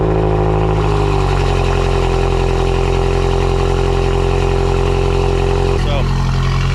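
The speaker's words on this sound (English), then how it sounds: "one final cold start for you guys." BMW M6 engine cold-starting, a loud steady engine roar with strong low rumble and a constant mid-pitched whine that holds throughout and dips briefly near the end.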